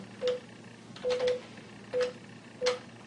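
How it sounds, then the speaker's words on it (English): Keypad tones from a Cisco IP Phone 7940 as a cell phone number is dialed: five short, clear beeps in an uneven rhythm, one pair close together, each lone and crisp against a quiet background. "I'll put in my cell phone number"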